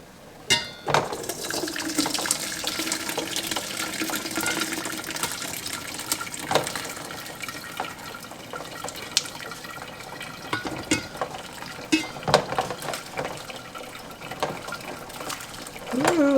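Apple juice poured into a measuring cup, a continuous trickling, splashing flow with a few louder clunks and knocks along the way, moderately near and unaccompanied by speech.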